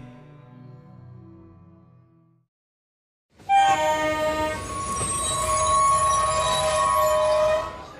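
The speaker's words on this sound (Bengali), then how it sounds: "হাজারিবাগের আগেই ট্রেন থেকে নেমে পড়ল আনন্দ" A train sound effect for a Bengali ghost story: after a soft low passage and a brief silence, a loud train horn blares over rumbling, screeching rail noise that holds steady to the end.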